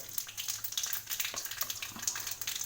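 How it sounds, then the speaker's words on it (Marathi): Mustard seeds dropped into hot oil for a Maharashtrian rice tempering, with a steady soft sizzle and light crackling spatter close by, fairly quiet and alone. "आता मी त्याच्यामध्ये सगळ्यात आधी राई टाकणार आहे, नंतर थोडंसं जिरं टाकणार आहे"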